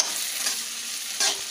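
Masala and onions stirred and frying in a pan for a stuffed bitter gourd dish, a continuous close sizzle with a brief louder scrape of the spoon near the end.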